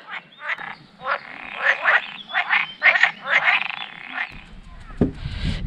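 A chorus of wetland frogs at Kopácsi-rét gives rapid, repeated croaks in quick clusters, fairly loud and near, ending with a brief low thump or handling noise.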